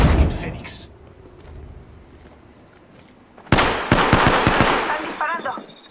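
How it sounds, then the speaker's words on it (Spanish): Automatic gunfire in the video game Apex Legends bursts in loudly after a quieter stretch, as a rapid string of close shots with a voice speaking alongside. "Están disparando."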